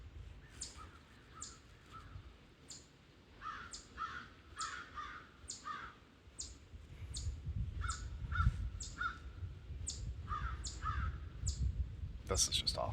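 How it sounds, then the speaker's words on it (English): Crows caw repeatedly in a steady series over a low rush of wind through trees beside a calm lake, the calls moderately near and evenly spaced. "Nothing to hear but the birds and the wind in the trees"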